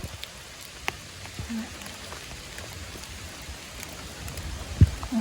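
Light rain falls in a forest during mushroom picking, a soft steady patter with scattered close drips and a few sharp knocks, fairly quiet overall.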